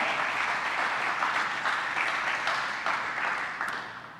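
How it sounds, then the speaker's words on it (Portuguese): A church congregation applauds steadily, a dense wash of clapping that fades slightly toward the end. "Dá um aplauso a ele aí"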